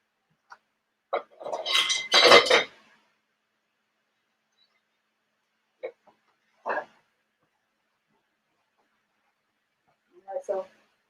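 Sliced beets are tossed with seasoning in a pan for a beet sandwich, giving a cluster of close utensil scrapes and clinks followed by a few sparse, brief knocks in near silence.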